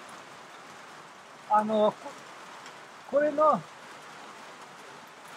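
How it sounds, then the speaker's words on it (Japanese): Heavy rain falling in a Nepalese mountain forest at about 1800 metres, a faint steady hiss throughout, with two short bursts of someone speaking over it. "残念ながら雨が降り始まった。 大雨だからもうしょうがない。"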